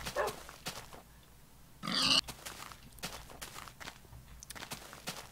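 Pigs grunt and oink in Minecraft with one louder snort standing out among soft footsteps and faint background noise, quiet overall.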